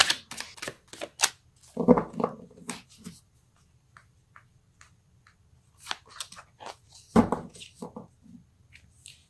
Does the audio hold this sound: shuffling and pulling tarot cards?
yes